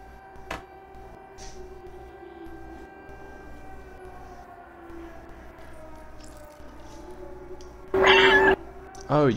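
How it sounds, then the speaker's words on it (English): A single loud, drawn-out meow from the player's cat in the video game Stray rises near the end over quiet humming ambient tones and soft scattered clicks. "Oh, you can even meow during cutscenes?"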